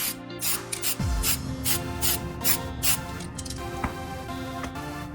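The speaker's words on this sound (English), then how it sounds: "I now apply a few light coats of red spray paint" Short hissing bursts of red spray paint onto acrylic in a quick uneven rhythm, close by, over a steady background hum and a low thud.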